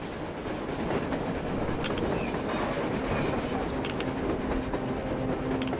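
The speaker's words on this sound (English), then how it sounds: "A train! A damn train on the surface!" A train approaches across the surface in the video game Metro Exodus, a steady heavy rumble with rattling, clattering wheels and metallic creaks that holds for several seconds, with no speech.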